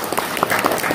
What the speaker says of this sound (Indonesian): tepuk tangan lah buat Bapak